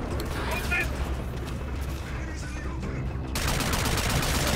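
Sustained automatic gunfire and rattling weapon mechanics from a Call of Duty: Infinite Warfare campaign battle, a dense continuous barrage that swells louder near the end, with a voice talking beneath it.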